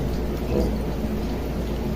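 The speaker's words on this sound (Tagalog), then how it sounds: "Tapos, lagyan natin ng tubig. Ayan basong tubig, ganyan." A glass being filled with water as part of a homemade motorcycle wiring fix, a steady close splashing pour running for about two seconds with no talk over it.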